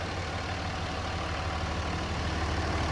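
Dodge Ram 2500 SLT 4x4 with a 5.9L high-output turbo Cummins diesel idling smoothly, a constant low, heavy rumble heard up close with no knocks or talk.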